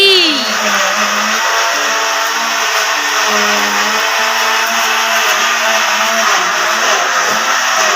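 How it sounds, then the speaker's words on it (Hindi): A mixer grinder whirs steadily as spices are ground in a home kitchen, a continuous loud motor drone throughout with a voice talking briefly over it. "बेटी मसाला पिसात है।"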